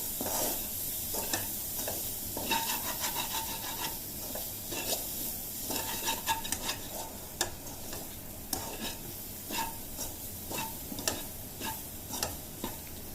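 Chopped chilli and tomato sauté in a pan for a black chickpea curry, with soft sizzling under frequent ticking scrapes and taps of a spoon stirring, all fairly quiet and close.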